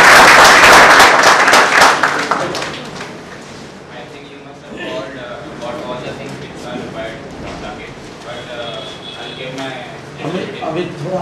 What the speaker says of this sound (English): Okay, another clapping for Mr.